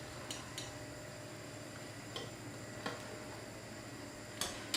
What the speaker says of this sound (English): so it's the right time to take them off from the pot. I'm using the slotted spoon for that